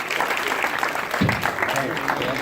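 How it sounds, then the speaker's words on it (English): A crowd applauds after a film screening, with a dense, even wash of clapping throughout and people talking under it. "Everybody give him a round of applause"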